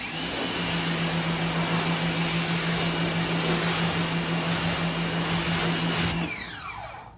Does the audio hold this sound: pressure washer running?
yes